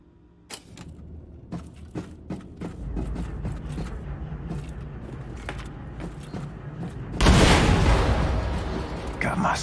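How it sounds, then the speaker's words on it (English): Explosion in a hangar bay in the video game Wolfenstein 2, a sudden loud broadband blast late in the clip following scattered clanks and thuds, with a rumbling tail. "Achtung, Explosion in der Hangarbucht."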